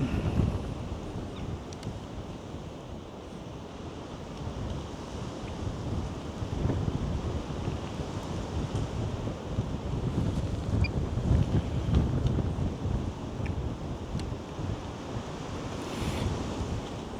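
Strong wind roars and buffets continuously over a canal breach site, with rushing, surf-like noise filling the whole stretch and no voices.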